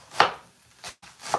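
Knife chopping cabbage on a board for a vegetarian bánh xèo filling, three crisp close cuts spaced unevenly over a short moment, with no talk.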